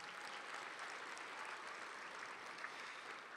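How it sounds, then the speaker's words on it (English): An audience at an education event gives steady, even applause, a dense continuous wash of clapping heard at moderate distance. "Let's acknowledge Hemet Unified with a nice round of applause"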